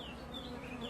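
Honey bees buzz steadily and close by, a dense insect drone with wavering pitch throughout, no talk over it.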